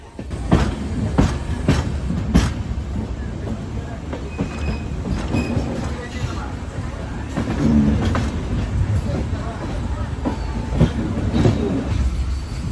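A moving passenger train on the Visakhapatnam to Prayagraj route, heard from inside the coach: steady rumbling with rhythmic clickety-clack of wheels over rail joints, a few sharp knocks, and faint voices low beneath it.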